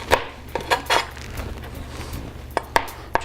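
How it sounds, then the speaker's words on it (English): Knife cutting the ends off string beans on a cutting board, a few sharp chops spaced irregularly, close and crisp with a quiet gap in the middle. "All we want to do is take a knife and just cut the ends off."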